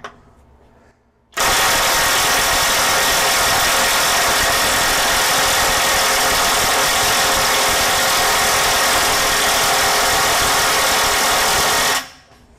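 A Kobalt mid-torque impact wrench, on a battery that has dropped a cell, hammers continuously and loudly up close for about ten seconds, trying to break free a bolt torqued to 900 foot-pounds, then stops.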